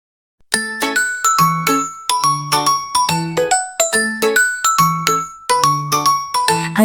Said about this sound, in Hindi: आइसक्रीम वाला आया रे बजा बजा के घंटी लाया रे